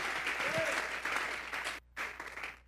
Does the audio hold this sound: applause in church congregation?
yes